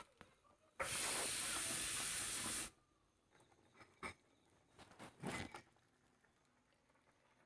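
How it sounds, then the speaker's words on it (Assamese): Pork boils in a pot over a wood fire, cooked in traditional Assamese style, giving off one loud, steady burst of hissing steam for about two seconds, then only faint scattered clicks and bubbling. "এতিয়া 5 মিনিটৰ পিছত এয়া মাংসবোৰ উতলি আছে।"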